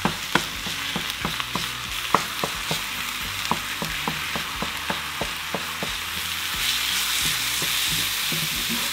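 One and a half pounds of ground beef sizzles steadily in a pan while a utensil stirs and scrapes it in regular, sharp taps, the frying hiss growing slightly denser toward the end.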